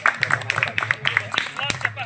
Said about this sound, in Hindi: তোমার জোরে জোরে তালি দাও